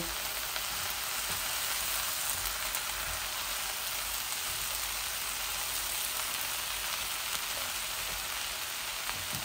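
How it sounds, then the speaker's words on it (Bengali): Bottle gourd shoots and leaves fry in a pan with a steady, even sizzle and hiss that stays unbroken and alone. "আর একটু ভাজা ভাজা হয়ে যাক।"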